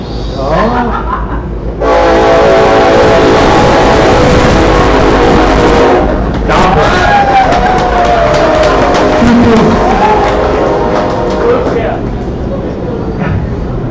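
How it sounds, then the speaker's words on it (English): A train passes close by with loud, continuous rumbling and rattling of cars, a horn sounding partway through, while people talk over it. "Come on, train."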